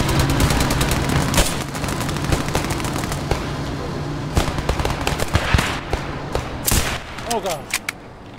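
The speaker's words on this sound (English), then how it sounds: "I'm also getting shot at by a tank." A video game battle in which a tank fires on the player amid heavy, continuous gunfire and explosions, with a constant roar under dense volleys and a few sharper blasts near the end.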